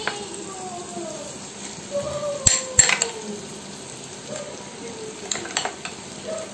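Coconut paste sizzling in a pan as it is stirred, a steady close frying hiss with metal utensil scrapes and clinks against the pan, and some speech underneath.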